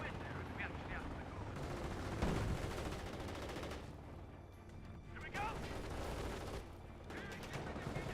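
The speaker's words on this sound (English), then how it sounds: "getting suppressed by the MG42" An MG42 machine gun in Company of Heroes fires in repeated rapid bursts amid other battlefield gunfire and explosions, with a low, continuous rumble of combat underneath.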